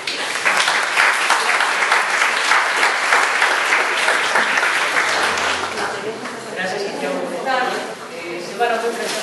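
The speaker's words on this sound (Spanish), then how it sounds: "un aplauso para él," Audience applause fills a gallery during an art exhibition opening, steady dense clapping throughout, with a few voices coming through toward the end.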